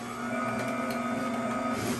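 An Amzchef ZM1517 slow masticating juicer with its grater attachment shreds produce in a steady mechanical whirring hum with a faint scraping texture, continuous and fairly close, with no speech over it.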